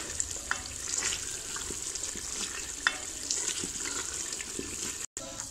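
Black chickpeas frying in oil in a pan, a steady close hiss of sizzling with intermittent scraping and stirring clatter, no speech.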